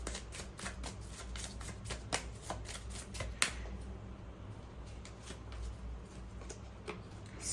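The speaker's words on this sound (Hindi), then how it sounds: "एक कार्ड और लेंगे हम इसी डेक से।" A tarot deck is shuffled and a card drawn, giving a quick run of soft papery riffles and flicks, then a sharper snap of a single card, followed by faint rustling; close and quiet, with no talk.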